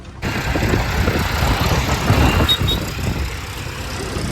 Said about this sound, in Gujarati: આ એક ટ્રેક્ટર, આ બીજું ટ્રેક્ટર, આ ત્રીજું ટ્રેક્ટર.